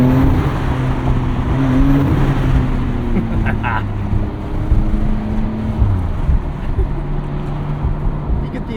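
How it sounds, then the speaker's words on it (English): Engine of a 2025 Porsche 911 Carrera S 992.2 with twin-turbo engine, heard from inside as a steady close drone with low harmonic tones shifting as it pulls, with turbo whoosh and brief gear-change bursts. "I love the turbo noise in this car."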